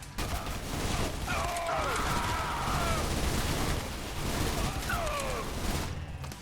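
Machine gun fire in the video game Trepang2, a steady, dense stream of loud shots running almost unbroken through the clip, with brief whistling ricochet-like tones layered over the clatter.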